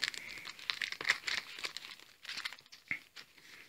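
Crinkling and tearing of plastic wrap as a limited-edition three-DVD Appleseed box set is unwrapped and opened, busy rustling close up for a few seconds with no talk.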